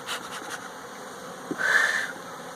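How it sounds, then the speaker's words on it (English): A low buzz of honeybees around an open hive hums steadily in the background, swelling briefly louder near the end, with no talking. "but look at all those bees"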